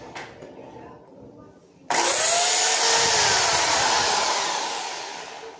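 Electric drill fitted with an 8 mm bit boring into a kitchen wall, starting abruptly with a loud, steady high whine that holds for several seconds and slowly eases, after some quiet handling noise.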